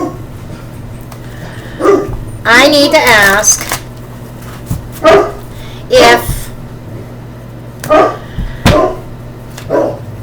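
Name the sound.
dogs barking at the mailman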